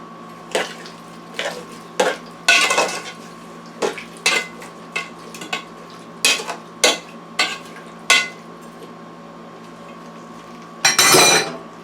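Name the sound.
stirring food in a pot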